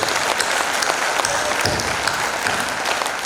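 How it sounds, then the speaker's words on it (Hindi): A large audience at a comedy poetry event in Mewar delivers a big, sustained round of applause for the JSJ group, a dense, even roar of clapping throughout. "मैं चाहता हूं जरा एक बार बड़ी वाली ताली जेएसजी ग्रुप के लिए मिल जाएगा"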